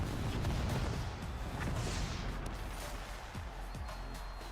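Booming, crashing bursts ring out at a live wrestling show, a dense rumbling blast at the start fading into scattered thuds and pops, fairly loud and distant-sounding with the crowd's noise underneath.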